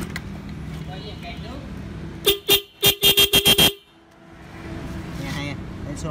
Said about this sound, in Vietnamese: quay kèn nước nghe hay đấy